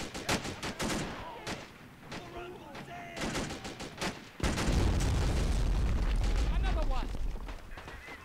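A large mortar fires in a real-time strategy game: rapid gunfire crackles, then a heavy low boom rumbles and sustains under continuing battle noise, with voices talking over it.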